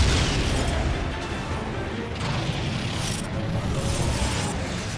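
Continuous heavy booming and crashing blasts with a dense low rumble, loud and sustained throughout, as drones are blown up in Just Cause 3.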